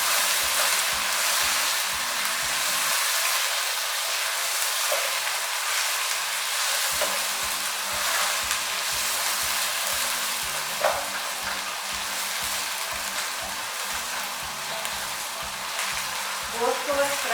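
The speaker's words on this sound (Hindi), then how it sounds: "गोश्त को अच्छी तरह भूनना है।" Mutton frying in a pot for shab daig, a steady close sizzle with occasional stirring scrapes, continuing without pause.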